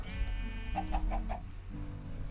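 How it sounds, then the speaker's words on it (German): A Minecraft chicken clucks in a short series of soft, evenly spaced clucks over a faint tonal game background, with no talking. "Wir bringen mal das Huhn hierher."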